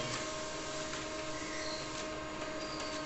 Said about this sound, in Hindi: तो जैसा आप देख सकते हो काफ़ी तेज़ी से प्रिंट हो रहा है।